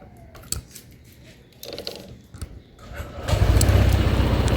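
A 2022 Honda PCX160 scooter, 160cc, starts up after a few scattered clicks and handling noises, then breaks into a loud, steady close-up engine rumble that fills the last second or so.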